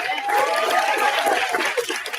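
Crowd applause at an opening ceremony for a bilingual educators' conference, loud and full, with cheering voices mixed into the clapping.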